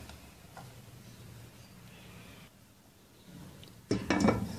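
A spoon stirs onion, tomato and garlic-ginger paste in a metal cooking pot. Quiet background gives way to a short, close burst of clinking and scraping at the end.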